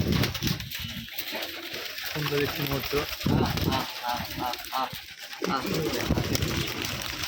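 Rajshahi colour-matching giribaz pigeons eat and coo close by, with repeated throaty coos and pecking over a constant background, while people talk among them.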